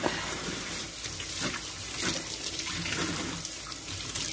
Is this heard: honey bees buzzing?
no